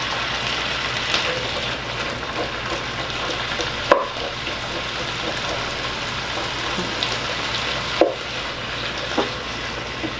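Beef heart in a skillet that isn't hot enough yet, giving a steady, moderate sizzle throughout, broken by a couple of sharp knocks as the pieces get moved or the pan is touched.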